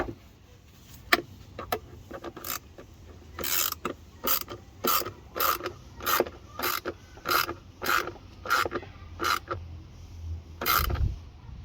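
Regular ratcheting clicks from a clamp being tightened around a Pipercross air filter on a BMW E92, a dozen or so evenly spaced, close, crisp bursts with brief pauses between them.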